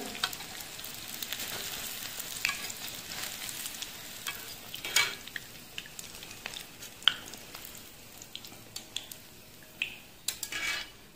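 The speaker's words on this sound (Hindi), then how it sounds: "सबसे पहले हम फ्राई करते हैं मोमो को" Momos frying in hot oil, a soft continuous sizzle with scattered utensil clinks and scrapes against the pan, fairly quiet and close, no talking.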